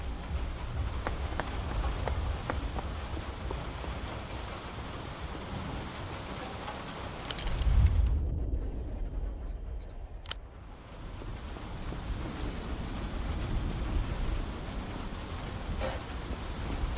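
Steady rain in the video game Zero Parades, a soft even hiss of falling drops with a brief louder rumble and a short dip into quiet midway, no voices.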